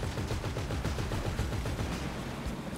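Dense, continuous gunfire from the video game GTA Online, rapid overlapping shots forming a loud, unbroken rattle with no talking.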